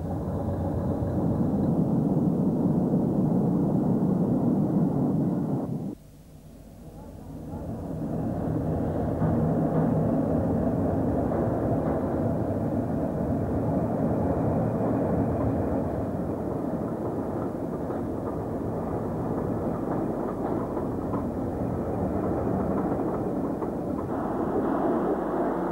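Heavy rumble of British Rail Class 40 diesel locomotives passing close by, a loud sustained roar that briefly drops away then builds again and holds steady to the end.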